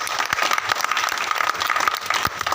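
Applause from an audience at a village community gathering: steady, dense clapping from many hands, fairly loud and continuous throughout, with no speech over it.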